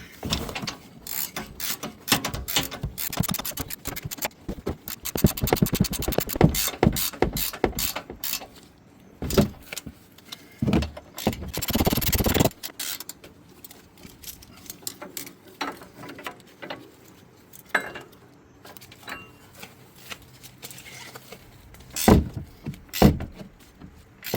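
A ratchet wrench snugs upper control arm bolts on a Ram 1500, with bursts of rapid clicking pawl sounds mixed with clanks and metallic handling noise, close and uneven in rhythm across the whole stretch.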